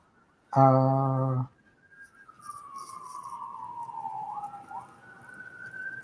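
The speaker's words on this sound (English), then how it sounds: "Where's the police cars?" A short, loud honk-like blast, then a police car siren wails at a distance, falling and rising in a slow sweep.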